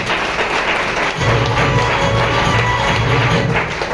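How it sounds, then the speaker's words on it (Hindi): Audience applause at a business meeting: a dense wash of clapping that swells after a moment and holds steady, fairly loud and close. "एक बार जोरदार ताली बजा दीजिए"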